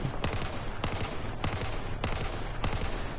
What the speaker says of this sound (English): Dump a whole mag here, burst firing.